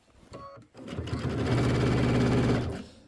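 A sewing machine stitches binding onto a Kimberbell Cuties table topper, starting after a brief pause and then running in a steady, close, loud hum for about two seconds before stopping.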